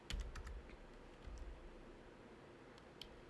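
Soft, scattered keystrokes tapped on a computer keyboard, a short quick burst at first, then a few isolated clicks over a quiet, hissy room background.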